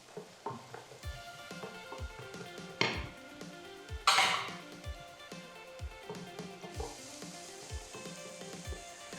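Fresh diced carrots hit hot oil with lightly browned chopped onion in a pan, setting off a loud, steady sizzle, with a few sharp utensil scrapes and clinks against the pan as the mixture is stirred.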